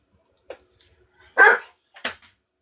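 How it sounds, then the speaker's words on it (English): A dog barks a few times in short, separated bursts, one louder bark in the middle, with a quiet room around it during a card game stream. "Stop barking."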